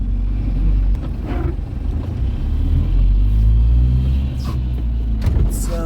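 A truck driving through a city centre after unloading flour: close engine rumble that swells and eases, with passing traffic noise around it and no clear talk.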